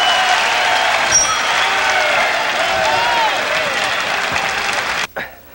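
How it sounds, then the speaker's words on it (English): Boxing crowd at an IBF bantamweight title fight at the Winter Circus in Paris cheers and applauds steadily at the end of a round, a dense roar of clapping and shouting that cuts off sharply near the finish. "And listen to the crowd at the end of round 4."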